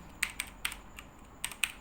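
Keys tapped on a computer keyboard while entering a Django command, about seven quiet, irregular clicks spread over under two seconds with no voices.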